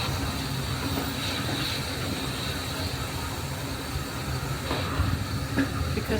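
Heritage train on Peak Rail at Matlock Riverside, a steady close rumble with hissing and faint clanks building slightly toward the end, no voices.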